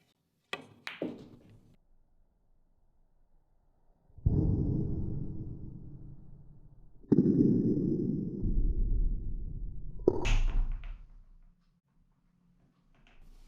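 Cue ball struck with a low left draw shot on a pool table: a sharp cue tap, then balls rolling and knocking, with a final clack as a ball drops, all close and with no talking.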